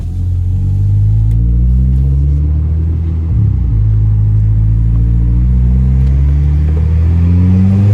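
Deep, steady exhaust drone from a 300 hp Volkswagen Golf Pirelli Edition heard from inside the car while driving, loud and continuous with a brief dip in the middle, no talking.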